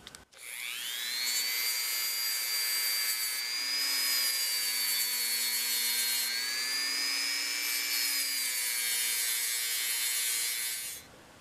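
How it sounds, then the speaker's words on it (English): Rotary tool spinning up a plastic abrasive bristle wheel to polish the shaft and ferrule of a Stanley Hurwood No. 20 screwdriver, a steady high-pitched whine with slight pitch shifts as pressure changes, running close for about ten seconds before winding down. "I'm going to use my plastic abrasive bristle wheels to get where the shaft"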